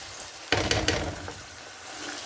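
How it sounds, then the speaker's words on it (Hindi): Okra and onions frying in a pan, a sudden loud sizzle bursting in as they hit the hot oil, then settling into a steady crackling hiss with a few stirring scrapes. "तो इसको हम तकरीबन 5 मिनट के लिए अच्छे से भूनेंगे।"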